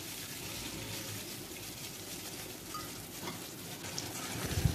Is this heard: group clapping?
no